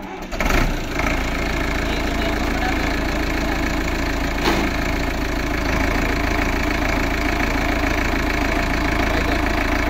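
A 58 hp Sonalika Tiger DI 55 tractor diesel engine starts with a brief burst, then runs steadily and loudly at a constant rumbling idle, close by, with no talk.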